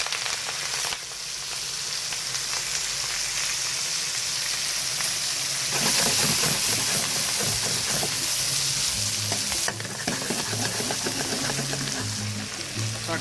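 Japanese cabbage sautéing with doubanjiang, garlic and ginger slices, a dense continuous sizzle that swells louder midway with stirring scrapes and settles again, no voices.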